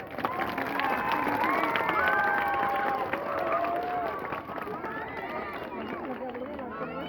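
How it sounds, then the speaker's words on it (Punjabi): A Teej festival audience responds with dense clapping mixed with cheering and shouting voices, a loud sustained crowd roar that eases slightly toward the end. "ਸਾਨੂੰ ਬੜਾ ਤਾੜੀਆਂ ਮਾਰ ਕੇ ਦੱਸ ਦਿਓ"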